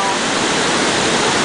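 A waterfall in Khao Yai National Park, Thailand, roars as a loud, steady broadband rush close by, with no break across the moment.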